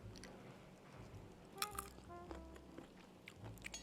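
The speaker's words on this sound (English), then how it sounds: "I'm gonna bite one of these chickpeas so you can hear how nice and crunchy it has" A single crunchy bite into an oven-roasted chickpea cooked on a cast iron griddle, with a few quiet close crackles and chewing snaps, faint and alone with no talk.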